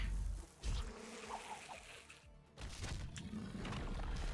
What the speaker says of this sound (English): Send in the bees.